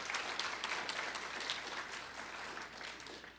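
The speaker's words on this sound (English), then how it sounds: "we can give those two people a round of applause for their work" Conference audience giving a round of applause, a steady, even wash of many hands clapping at a moderate distance, continuous throughout and fairly quiet.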